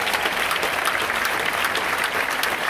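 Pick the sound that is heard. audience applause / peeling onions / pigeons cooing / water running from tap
audience applause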